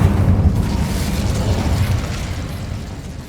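A fire spell in Hogwarts Legacy goes off as a loud, sustained roaring blast with a deep rumble that slowly fades over a few seconds.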